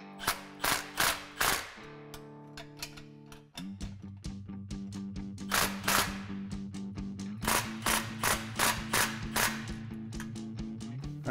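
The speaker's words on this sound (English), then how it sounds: "we're going to tighten that down with a 14 millimeter wrench and a 14 millimeter socket" A 14 mm wrench and socket tighten exhaust clamp bolts on a Ford F-150 during a Flowmaster FlowFX Extreme single exhaust install: a steady run of quick, close ratcheting clicks in short bursts over a low humming background, with no talk.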